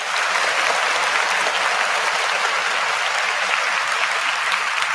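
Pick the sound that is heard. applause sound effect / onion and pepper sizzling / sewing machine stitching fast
applause sound effect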